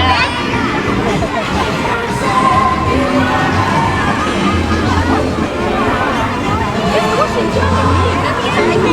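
Dense holiday crowd fills a pavilion in Kuala Lumpur with a steady, close hubbub of overlapping chatter and children's voices, occasional shouts and whoops rising from the continuous babble.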